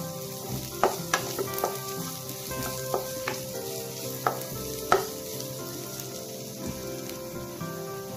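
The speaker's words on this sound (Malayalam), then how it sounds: "ഇതൊന്ന് നല്ല പച്ചമുളകൊക്കെ മാറുന്നവരെ ഒന്ന് നന്നായിട്ട് മൂപ്പിച്ചെടുക്കാം" Ginger, garlic and green chillies sizzle steadily in a pan of oil for a Kerala prawn masala, with sharp pops and clicks of a spoon stirring now and then. No one speaks.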